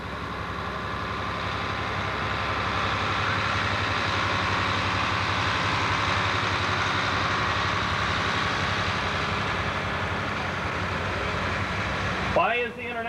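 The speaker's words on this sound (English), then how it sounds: "I believe this tractor was sent by the John Deere store from Marion." A John Deere tractor from the Marion dealer idles steadily at a 1987 centennial parade in Aulne, Kansas, a low even engine drone that holds throughout under speech, ending with a brief louder burst.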